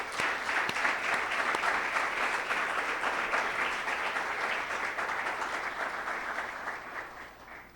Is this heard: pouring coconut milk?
no